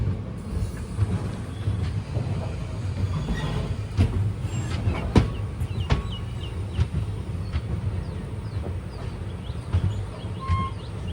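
Kollam–Chennai Egmore Express rolling through the stretch near Srivilliputhur station, a steady near rumble of rail wheels with scattered clicks and knocks throughout, faint birds in the background.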